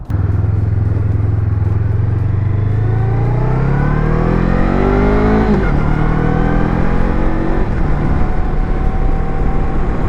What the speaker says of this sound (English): The little 500cc power plant definitely is a little buzzy.